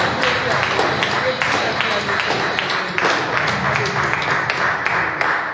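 A church congregation claps along in rhythm during Sunday worship, sharp repeated hand claps running steadily beneath singing and voices.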